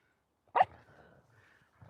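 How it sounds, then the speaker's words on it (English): A single sharp bark from a dog on a walk in Scotland, one of a group of eight, followed by a faint low growl and a softer second sound near the end; quiet outdoor setting, no talking. "Can you hear Harris growling? Another way of him getting frustration out. And Barney's now barking"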